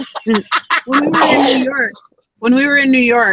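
A loud sneeze bursts out amid lively conversation, followed by more talking after a brief pause.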